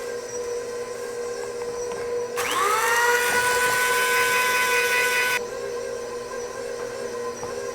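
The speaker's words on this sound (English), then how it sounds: "we're gonna grind our lapsang souchong tea in a spice grinder" Electric spice grinder whirring as it grinds lapsang souchong tea leaves into powder, a loud steady high-pitched motor burst of about three seconds that rises in pitch as it spins up, over a quiet kitchen background.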